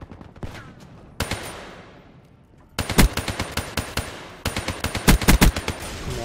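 Rapid automatic gunfire in the video game Call of Duty: Black Ops 3 comes in sharp bursts, with a few isolated shots, then sustained fast volleys from about the midpoint, loud and punchy with short gaps between strings.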